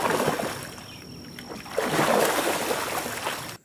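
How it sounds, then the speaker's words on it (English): Carp splash in a pond where horned pondweed grows in spring, a broad wet wash of water sounds with a sharper splash partway through, steady and close, ending abruptly. "mostly we experience our carp by the splashing we hear after horned pondweed appears in the spring"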